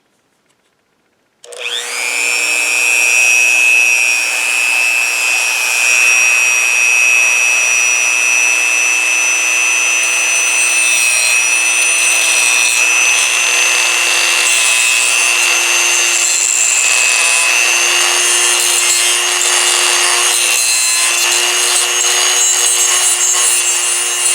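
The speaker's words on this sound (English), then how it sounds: "So I'm going to carefully use this Dremel tool to freshen up these faces." A Dremel rotary tool grinds and dresses the faces of a metal scope mount block for a Norinco SKS rifle, a loud steady high-pitched whine with a constant motor hum that begins abruptly and runs unbroken, close up and with no talk.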